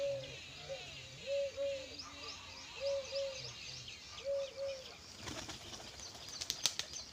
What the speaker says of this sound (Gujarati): કબૂતર આવ્યા